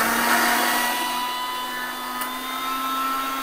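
A Panasonic blender runs at speed 2 with water inside: a steady, loud motor whine with a whirring hum that holds evenly from start to finish, no voices.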